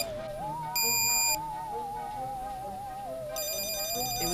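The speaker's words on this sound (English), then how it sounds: "That's the electrical buzzer when it detects electricity" An electrical detector buzzer used during a haunted doll experiment sounds a continuous warbling electronic tone, cut by two louder bursts of harsh beeping, with no talking.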